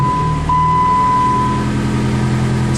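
A car engine idles steadily, loud and close, just after its fuel pump has been replaced and with a broken exhaust, giving a continuous low hum with a thin high whine layered over it and no talking.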